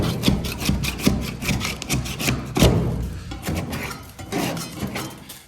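Hand scraper rasping stripped paint from the bare steel body of a 1957 Mercury Turnpike Cruiser, a series of quick, uneven scrapes and rubs at close range, some strokes sharper and louder than others.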